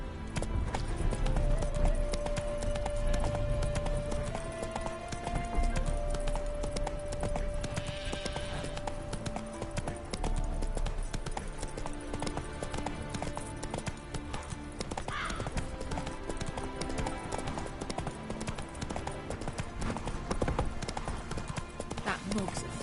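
Roach the horse galloping in The Witcher Wild Hunt, hooves clip-clopping in a steady, continuous rhythm throughout, mixed with game music and a voice speaking over it.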